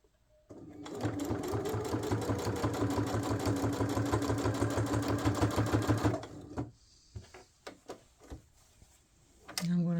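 A sewing machine runs in one long, fast, steady stitching burst along sweatshirt edges, then stops, leaving a few light clicks and handling taps.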